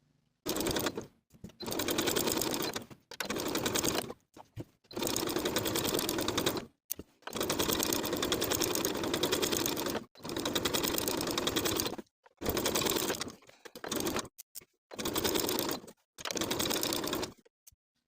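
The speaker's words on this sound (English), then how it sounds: "you can do this edge stitching from the outside, just feeling through the fabric to feel where those finishing stitches are" A sewing machine edge stitches a sweater facing in about a dozen steady runs of rapid whirring, separated by short silent pauses, close and fairly loud.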